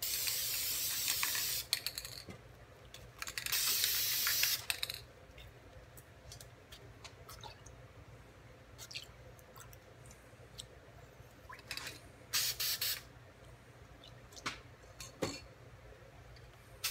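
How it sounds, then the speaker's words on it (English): Spray paint in emerald and hunter green hisses from a can in short bursts, a few longer sprays early and later, separated by quiet gaps and small clicks. "the emerald green and the hunter green I'm spraying on there"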